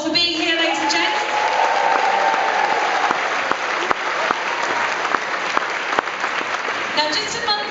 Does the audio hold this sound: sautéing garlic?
no